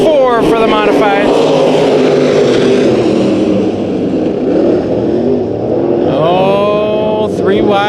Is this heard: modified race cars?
yes